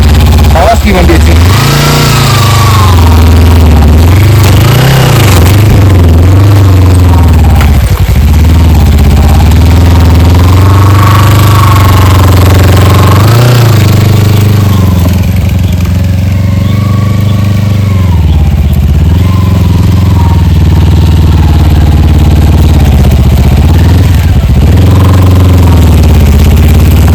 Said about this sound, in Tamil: ஆஃப் ரோடிங் போயிட்டு இருக்கேன் இப்போ கவாஸ்கி வண்டி வச்சு.